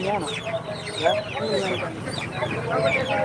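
Chickens at a busy Kerala poultry market cluck and squawk in overlapping bursts, fairly close, with people talking throughout and a constant crowd murmur underneath.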